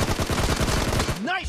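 Rapid video-game gunfire crackles in a dense, continuous burst for over a second, loud and close, ending in a short descending electronic sweep.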